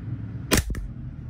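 An unsuppressed WE G17 G3 airsoft pistol fires once with a sharp, close snap followed right away by a quick mechanical clack as the slide cycles, with no talking.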